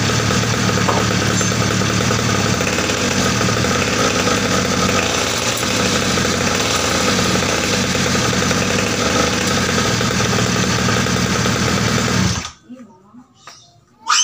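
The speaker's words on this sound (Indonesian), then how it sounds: "Itu pas mesin dalam langsam dia nggak berputar, digas sedikit aja, sedikit ya, digas sedikit aja dia langsung nempel." A motorcycle engine idles in neutral, its steady loud mechanical drone getting a slight rev, running continuously for about twelve seconds before cutting off abruptly into near silence.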